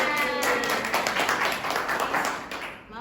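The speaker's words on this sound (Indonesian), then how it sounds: "Oke, boleh tepuk tangan." Classroom applause from students during a microteaching lesson, a continuous patter of many hands clapping at steady loudness, fading slightly near the end.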